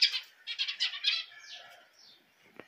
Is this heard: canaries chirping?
yes